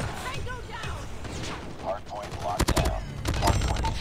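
Bursts of Holger 26 light machine gun fire in Call of Duty Mobile, scoring headshots: rapid sharp volleys in two clusters near the end, over a steady game background and a talking player.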